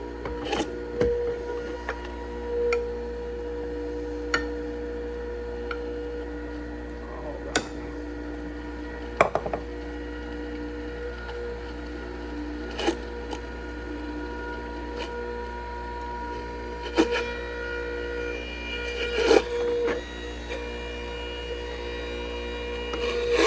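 A PURE cold press juicer grinds and presses ginger, a steady low mechanical hum with a tonal drone, punctuated by scattered sharp clicks and cracks as the fibrous root is crushed.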